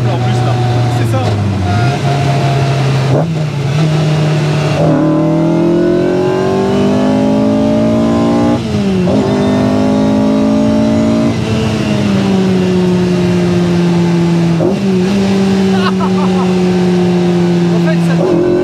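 A prepared car engine revs hard and loud while accelerating, its pitch climbing through several gear changes, with people talking over it inside the car.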